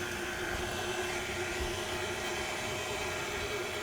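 A stand mixer with a paddle combines cookie dough in a steady, even motor whir with a low churning hum, close and unchanging for several seconds, no talking.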